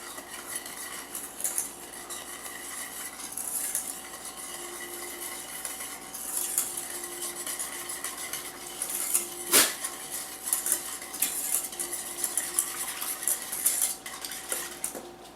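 A spoon stirs sugar into warm milk in a bowl, clinking steadily against the sides in a run of close, light metallic taps with no talking.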